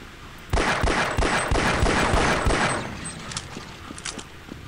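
Rapid pistol shots ring out in the first-person shooter Half-Life: Blue Shift, a burst of about ten sharp, closely spaced cracks fired at a steady rhythm, loud and up front, then a few fainter clicks and pops trail off.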